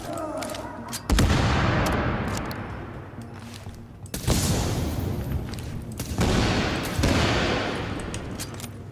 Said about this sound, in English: I like shooting the barrels